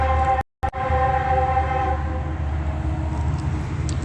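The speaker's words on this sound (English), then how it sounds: "I'm taking an image of what is, again, going eastbound on the Metrolink train tracks." An eastbound Metrolink commuter train passes on nearby tracks, a loud steady rumble with a horn-like tonal hum holding throughout, broken only by a brief dropout near the start.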